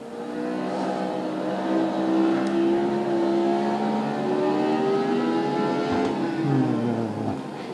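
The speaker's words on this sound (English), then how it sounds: "Up and down the gearbox, the upcoming 8-shifter in action" A 1975 Formula One car engine in a racing simulator at Interlagos, screaming up through the gears with rising whines, brief drops at each shift, then braking and downshifting near the end, loud and close with no talk.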